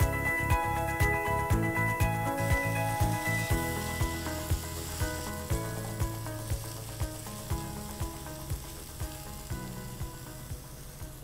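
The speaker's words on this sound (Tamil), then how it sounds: "வெங்காயம் இஞ்சி பூண்டு பச்சை மிளகாய் எல்லாமே வந்து பார்த்திங்கன்னா நல்லா இப்போ ஓரளவுக்கு நமக்கு வதங்கி வந்துருச்சு" Onion, ginger, garlic and green chilli sautéing in a pan for a Chettinad shark puttu, a continuous close sizzle broken by regular stirring scrapes and clicks, with no talk.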